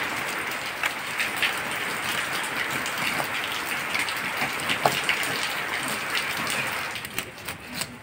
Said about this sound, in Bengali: বৃষ্টি পড়ছে গো বন্ধুরা।